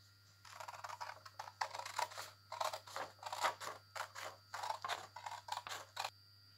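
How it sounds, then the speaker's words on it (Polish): Scissors snip steadily along a folded crease in paper, a rapid series of close, crisp cuts over a low background hum, with no talking. "I rozcinamy nożyczkami po tej zgiętej linii."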